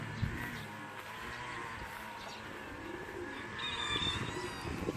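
Racing pigeons coo and flutter at a loft after a 142 km race from Kybartai, soft repeated calls over light rain and a quiet outdoor background.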